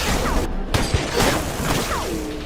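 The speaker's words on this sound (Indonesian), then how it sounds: "Lalu dengan segera Simpson membalas tembakan Brandon bertubi-tubi." Repeated gunfire in a sniper action film scene, several sharp shots and impacts in quick succession over loud, dense background noise, with whooshing debris and crashing effects.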